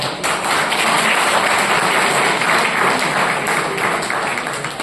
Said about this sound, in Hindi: लगभग एक जोरदार तालियां बजाएंगे